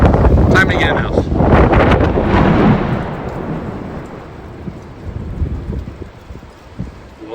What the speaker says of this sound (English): Blowing pretty hard out there.